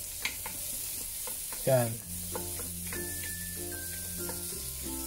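Garlic, onion and ginger sauté in a pan, giving soft sizzling and occasional stirring scrapes under a quiet kitchen hum, with a brief spoken word near the start.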